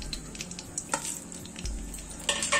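Bay leaves, two chillies and cumin seeds sizzle in hot oil in a pan, a steady close frying hiss with a spoon stirring and scraping against the metal, no voices.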